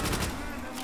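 Rapid gunfire in a Call of Duty zombies match on the Der Riese map, a dense burst of shots filling a brief moment, loud and close.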